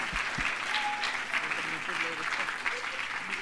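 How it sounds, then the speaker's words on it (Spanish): Audience applause at a university event honoring documentary producers, steady sustained clapping from a crowd filling the whole stretch, with voices faintly mixed in. "Un fuerte aplauso para ellos."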